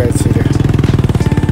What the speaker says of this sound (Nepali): मेरो साथीहरूले बाइक छिराउँदैछ।